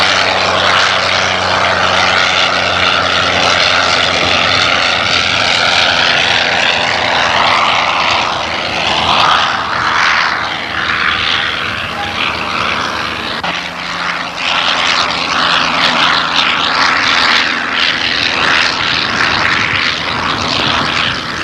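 A pre-1914 Morane monoplane's rotary engine roars and rattles continuously at close range for the whole stretch, a loud, dense propeller drone with a harsh clattering edge and no talk.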